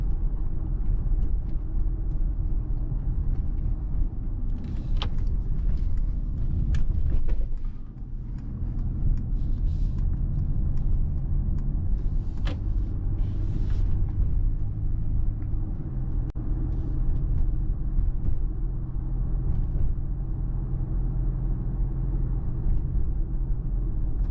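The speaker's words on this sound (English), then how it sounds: "then you have also much more noise here with the diesel" A 2024 Mercedes GLC Coupe diesel on 20-inch wheels driving at night, heard from inside as a steady, loud low road and engine rumble that holds throughout, with a brief dip partway through.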